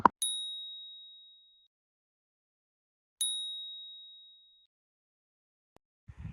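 Two clear electronic beeps from a metal detector, each a sharp ring with a long fading tail about three seconds apart, heard alone with only a faint rustle at the end.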